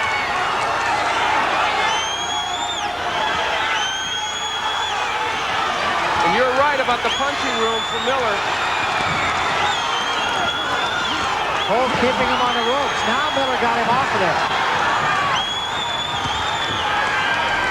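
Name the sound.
New Jersey boxing crowd cheering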